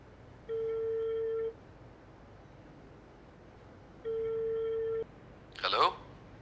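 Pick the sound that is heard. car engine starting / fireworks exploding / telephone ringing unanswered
telephone ringing unanswered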